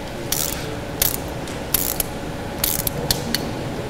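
Torque wrench tightening bicycle bolts to 5 Nm, giving a string of short, crisp ratcheting clicks in small bursts at uneven intervals, close and fairly loud over a steady low background hum.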